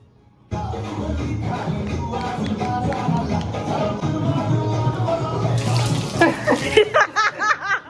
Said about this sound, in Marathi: तर मी आता चालली घेऊन पाणी त्यांच्यावर टाकायला, रिस्क घेऊन